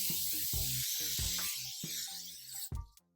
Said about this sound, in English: who doesn't love hairspray?